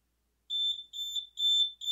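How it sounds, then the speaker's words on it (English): A CK-340-AMR industrial process timer alarm beeps in a clean, high-pitched repeating pattern, four or so bursts in quick succession, loud and alone against silence. "the CK340 timer flashes and beeps for 10 seconds and then stops automatically"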